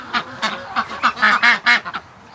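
Muscovy ducks give a quick run of about ten raspy quacks in uneven bursts, close and fairly loud, with no voices over them.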